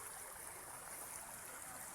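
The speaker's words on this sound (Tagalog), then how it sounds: "Lalakas ng agos" River current flowing strongly, a steady broadband rush of water that stays even throughout, with no voices.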